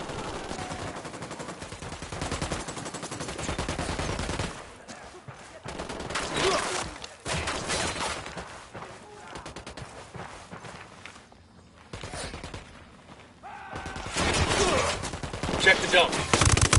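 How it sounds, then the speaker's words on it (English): Bursts of automatic gunfire ring out in a shooter video game, loud rapid volleys broken by short quieter gaps, then heavier firing toward the end. "Opening fire on these fuckers."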